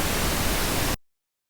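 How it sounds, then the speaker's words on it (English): Steady broadband noise hisses evenly for about a second, loud and unbroken, then cuts off abruptly into silence. "you can hear the sound produced first by a white noise, then by a pink noise"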